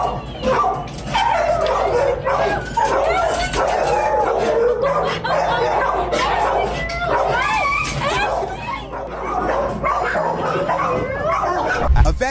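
A female dog in Georgia whimpers and yips excitedly at reuniting with her owner, continuous high-pitched whining and cries under overlapping excited human voices and background noise.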